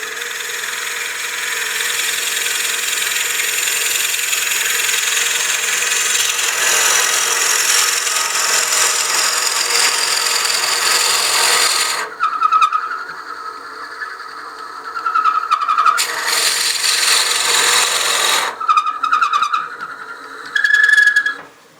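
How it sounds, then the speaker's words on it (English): A dull bit bores into a wooden witch block head turned on a lathe, the tailstock locked down: a steady grinding, rasping whir runs for about twelve seconds, then breaks into shorter bursts with pauses between. "then lock this down, and then we can start drilling"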